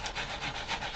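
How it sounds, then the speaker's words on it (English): Light sanding on two-tone cardstock in a papercraft session, a steady soft scratchy rubbing with gentle back-and-forth strokes, close and fairly quiet, with no talking. "now my little sanding"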